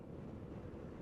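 Strong wind buffets a microphone in steady low rumbling gusts, a dense continuous roar with no voices, blowing during a ride.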